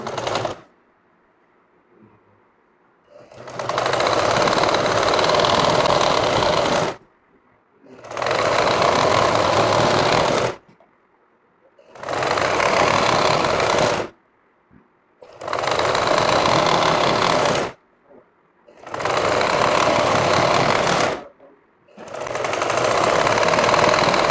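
A sewing machine runs stitches through pajama fabric, folding the edge near the snap buttons and thick elastic. It sounds in six loud, close bursts of rapid whirring stitching, each several seconds long, with short silent pauses between them.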